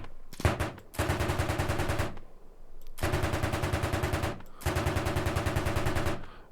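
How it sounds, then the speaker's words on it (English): Bursts of rapid machine-gun fire from a Soviet T-72A tank in the video game Arma Reforger, three sustained volleys of steady automatic shots separated by brief pauses, loud and close. "And then we have the machine gun as well."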